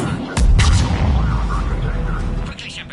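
Battle in the video game Mass Effect 3 at a checkpoint under attack: a heavy booming burst of gunfire and artillery-like blasts rumbles loudly and continuously beneath a speaking voice.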